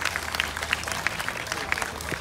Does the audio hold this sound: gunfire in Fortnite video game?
no